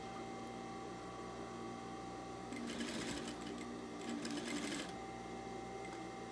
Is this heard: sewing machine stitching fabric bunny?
yes